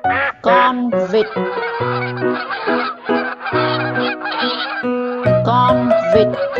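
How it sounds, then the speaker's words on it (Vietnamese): Loud, close waterfowl calling, honking quacks from several birds overlapping in dense bursts, some calls drawn out and goose-like, with no talk. "Con vịt."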